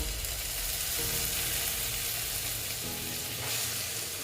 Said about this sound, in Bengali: দেখো মশলাটা আমি কষে নেবো